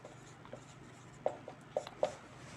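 Pen writing on paper, faint and close, a few short scratchy strokes coming in small bursts over quiet background.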